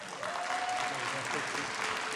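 Audience applause fills a city council meeting chamber, dense steady clapping from a crowd lasting the whole stretch, fairly loud and close with a brief tonal hum underneath.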